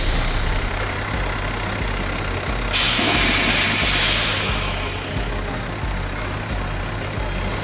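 A truck maneuvers at the World of Asphalt 2024 show in Nashville, its engine rumbling under steady background noise, while a loud air brake hiss bursts out for about a second and a half midway.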